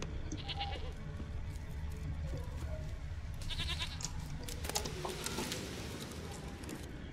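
A goat bleats repeatedly in the video game The Witcher 3: Wild Hunt, with several wavering cries rising over a constant background rumble of game ambience.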